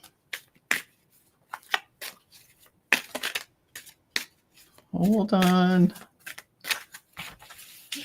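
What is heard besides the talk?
shuffling a deck of cards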